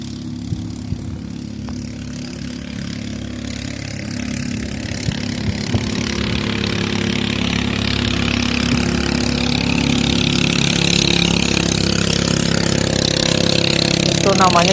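A jukung, a small river motorboat, passes through a village on a river. Its engine makes a steady, droning hum that grows gradually louder and stays close across the whole stretch.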